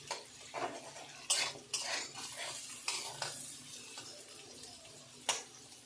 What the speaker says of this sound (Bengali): এবার পেঁয়াজটাকে ব্রাউন করে ভাজবো, ব্রাউন কালার হয়ে আসবে পেঁয়াজটা, ততক্ষণ ভাজবো।